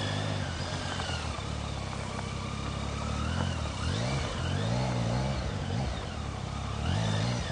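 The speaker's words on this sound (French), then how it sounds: "Donc là, c'est un coup d'accélérateur et ta moto, elle part en biais." A big trail motorcycle's engine takes a few throttle bursts, revs climbing and falling in quick swells over a running engine, heard close and fairly loud with no talk.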